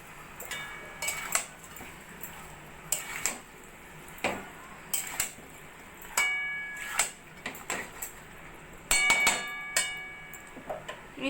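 A spoon clinks and scrapes against a metal pot while chicken curry with tomato sauce is stirred, giving irregular sharp knocks and rattles spread over several seconds with quiet gaps between.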